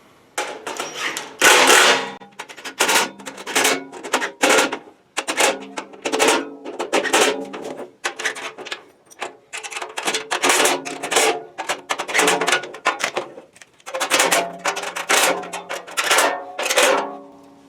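Someone tightens 10 mm bolts on a Harbor Freight welding cart with a hand tool, giving a close run of short ratcheting clicks and metallic clatters in uneven bursts with brief pauses.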